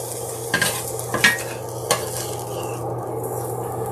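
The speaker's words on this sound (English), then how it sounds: "I'm going to put my bacon, peppers, and onions" Bacon, peppers, onions and a little mushroom go into a pan and get stirred, giving a few distinct utensil clatters over a soft, continuous sizzle.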